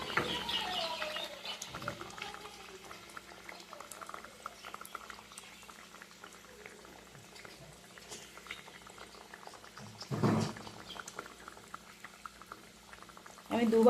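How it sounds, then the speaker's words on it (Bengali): Twice-coated raw banana cutlets fry in hot oil over a normal to high flame, a continuous soft sizzle and crackle with a few louder bursts near the end. "আমি নর্মাল টু হাই ফ্লেমে রেখে এগুলো এপিট ওপিট করে ভেজে নেব"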